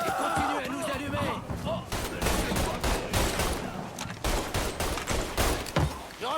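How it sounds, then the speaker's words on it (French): Gunfire in the video game Mafia III: repeated loud bursts and shots crack in an irregular barrage throughout, with overlapping voices in a tense firefight. "Il continue à nous allumer."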